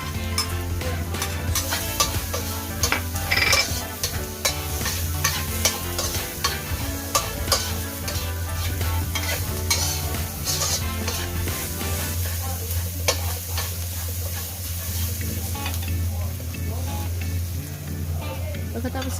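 Garlic stir-frying in a pan for a vegetarian lo hon dish, a steady close sizzle with frequent scraping and stirring clatter of a utensil against the pan throughout.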